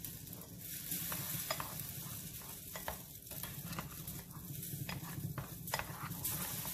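Meatloaf mixture with parsley being mixed: a rhythmic series of wet, squelching pats and scraping clicks up close, repeating steadily over several seconds with no talking.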